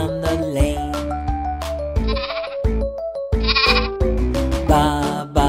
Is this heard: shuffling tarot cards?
no